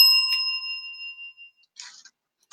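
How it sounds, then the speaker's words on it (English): A single bell is struck once and rings out clearly with a bright, sustained tone that decays over about a second, followed by faint rustling and a small tap near the end; no one speaks. "You like how I just ring the bell whenever I'm done?"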